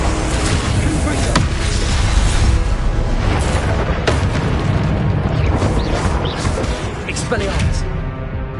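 Repeated Confringo blasting spells explode during Hogwarts Legacy combat, loud booming bursts layered over dense, continuous game noise and shouted spell incantations.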